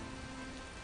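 Rain falling on a dark street, a brief steady patter and hiss at low level, with a faint tone running underneath for part of it.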